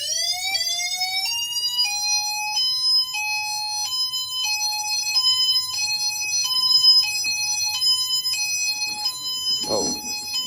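A Federal Signal SiraTone electronic siren sounding a pulsed wail, its tone rising then stepping in repeated on-off pulses, with a brief thump near the end.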